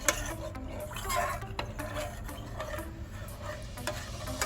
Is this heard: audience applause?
no